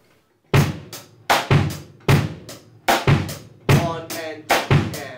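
A close drum kit groove with the kick on beat 1 and the E of 2 and the snare on 2. Punchy hits repeat in a steady pattern with cymbal wash ringing over them, and no voices.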